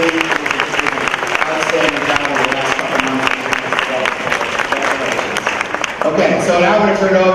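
A school assembly audience breaks into sustained applause at an anti-bullying event, a dense, loud wash of many clapping hands with crowd noise and some voices mixed in.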